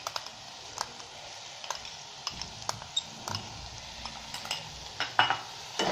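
Soy sauce, tomato ketchup and red chili sauce sautéing in a pan for chilli garlic noodles, a soft sizzle under repeated sharp clicks and taps of stirring, faint and without speech.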